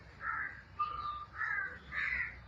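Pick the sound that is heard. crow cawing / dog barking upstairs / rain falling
crow cawing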